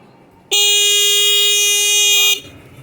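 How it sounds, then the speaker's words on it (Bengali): A battery-powered electric bicycle's horn gives one loud, close, steady electronic honk lasting almost two seconds, starting and stopping abruptly against a quiet background. "হর্নটা আরেকবার বাজা বাজা শোনাও"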